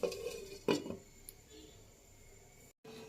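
Metal lid lifted off a cooking pot of simmered potato and soybean curry, a couple of sharp clanks and clatters near the start, then quiet kitchen background with a short scrape before a brief gap.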